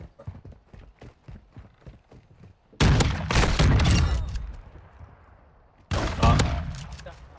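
Gunfire in Call of Duty Modern Warfare 2: two loud, sharp bursts with long decaying tails, a few seconds apart, following a run of quick rhythmic taps like running footsteps.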